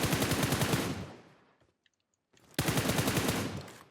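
Automatic gunfire in PUBG Mobile: two loud, rapid bursts of close machine-gun fire separated by a brief near-silent gap, with no talking.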